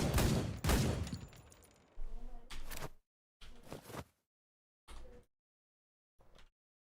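Video game gunshots ring out as a rapid loud volley at first, then separate shorter bursts with silent gaps between them, each fading quickly.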